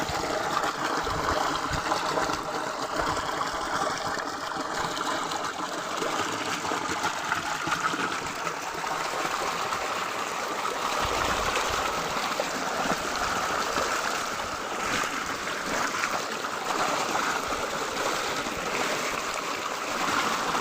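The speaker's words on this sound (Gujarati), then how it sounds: "જુઓ આ કુંડીમાંથી પાણી આવે છે" Canal water pours steadily from a pipe into a tank, a continuous rushing splash heard close by, even in level throughout with no voices.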